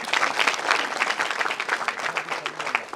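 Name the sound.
audience applause welcoming chief guest at poetry event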